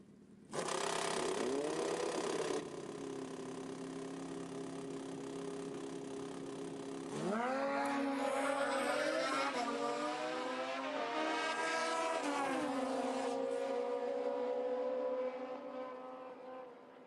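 Drag racing cars launch down the strip at the Fuel Tech World Finals with a loud, sustained engine roar. The pitch climbs sharply partway through as the revs surge, then holds steady before fading, with no voices.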